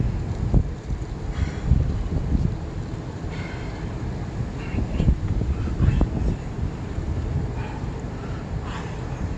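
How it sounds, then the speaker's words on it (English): Strong wind buffets the microphone with low rumbling gusts rising and falling throughout, with faint water sounds underneath, at a waterfront during a burpee workout. "Windy."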